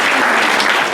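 Audience at an innovation challenge final event clapping for a volunteer coach, a steady dense burst of close, loud applause lasting about a second with no voices.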